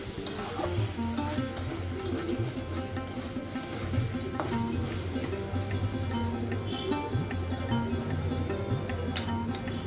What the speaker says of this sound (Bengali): তারপরে ঢাকনাটাকে খুলে ভালো করে সব কিছুর সাথে একটু নাড়িয়ে চাড়িয়ে নিচ্ছি।